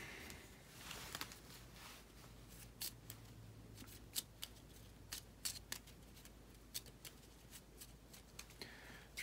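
Cards for the Lord of the Rings: Journeys in Middle-earth board game are shuffled by hand, a quiet run of crisp riffling clicks and snaps over several seconds, close and fairly soft, without speech.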